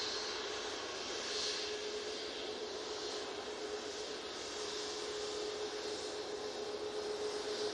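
A TUI airliner turns onto runway 23 left at Manchester Airport, its engines producing a faint, steady whine and hiss with a sustained tone, distant and even, with no voices.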